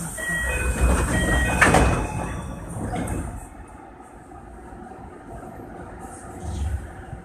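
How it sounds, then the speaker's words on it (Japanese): Sliding doors of a Tsukuba Express local train bound for Akihabara sliding shut at a station, with a hiss and thump amid steady rumbling cabin noise, then the train hums quietly. "閉まるドアにご注意ください。"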